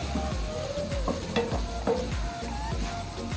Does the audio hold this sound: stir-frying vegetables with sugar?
yes